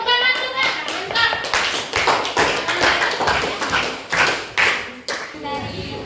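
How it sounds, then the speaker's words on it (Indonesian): Clapping from a group of pupils in a sixth-grade classroom. The claps are dense and uneven, and children's voices are mixed in under them throughout. "Oke, tepuk tangan juga."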